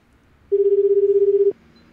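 A telephone ringback tone sounds during an outgoing call, a single steady electronic burst of about one second that starts and stops cleanly against faint room noise.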